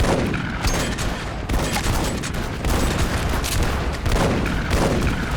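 Shotguns firing in the first-person shooter E.Y.E. Divine Cybermancy, a loud, dense run of booming blasts in quick succession with hardly any gap between them, no voices.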